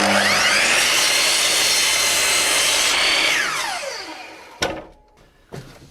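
A power saw cuts through wood for furniture building, giving a loud, sustained whining cut that spins down as the blade slows, followed by two knocks as the piece is handled.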